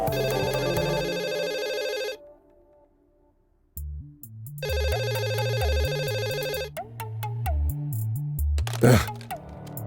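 A telephone rings in repeated electronic bursts with pauses between, then a different ringtone pattern plays, followed by a sharp crackle near the end.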